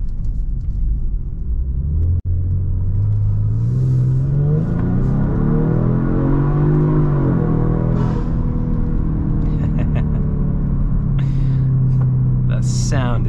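Tuned 2023 Genesis G70 on lowering springs, about 500 torque, heard from inside while driving: a loud, steady engine drone rises and falls as it revs and accelerates, with one sharp click partway through.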